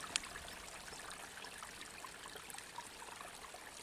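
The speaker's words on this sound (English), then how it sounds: "we might hear the gurgling of a lovely beck in the background" A small beck gurgles and trickles faintly in the background on open fell country, a steady quiet babble of flowing water with no one speaking.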